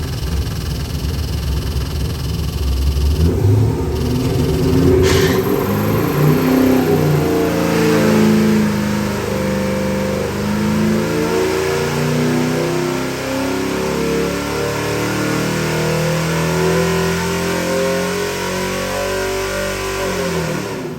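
A Ford 427 cubic inch Dart crate engine on a dyno revs up loudly and climbs steadily in pitch, a sustained close roar with rising harmonic bands held for a long pull.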